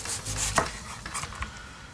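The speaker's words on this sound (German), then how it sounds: "Dann schneiden wir noch die Zwiebel in dünne Ringe" A knife cutting a large onion into thin rings, a few scraping, rubbing cuts with soft thuds on a board, close and brief, no talk.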